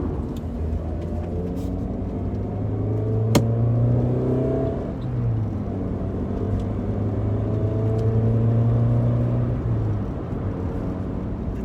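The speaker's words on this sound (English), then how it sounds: "The 2-litre twin spark engine" Alfa Romeo 2-litre twin spark engine revving, a close humming drone that rises and falls in pitch through a couple of swells, with one sharp click partway through.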